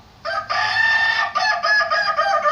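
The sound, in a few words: kukuak balenggek rooster crowing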